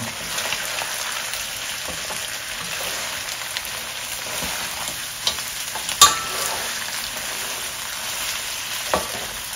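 Garlic fries in a pan with a soft, steady sizzle and crackle, punctuated by a few small pops and stirring clicks, with no one talking.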